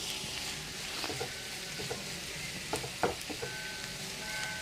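Onions sauté in leftover fish-frying oil for fish molee, a soft, steady sizzle with occasional clicks and scrapes of stirring, faint and close, with no voices.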